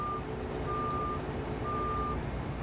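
A truck in Farming Simulator 22 backs up, its reversing alarm beeping in slow, evenly spaced tones over a steady low engine drone.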